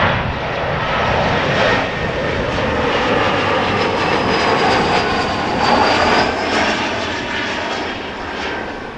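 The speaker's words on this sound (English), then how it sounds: "we first will see this KLM Embraer 175 arrive from Bristol" A KLM Embraer 175 jet arriving from Bristol at Amsterdam Schiphol sends out a loud, continuous engine rumble with a thin rising whine, swelling slightly midway and easing toward the end.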